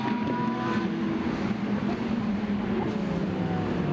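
GT race cars, including a Ferrari and a Lamborghini, lapping a track in Hungary during a Blancpain GT Sports Club race on a drying surface, producing a steady, droning engine roar with tonal harmonics that hold fairly level throughout.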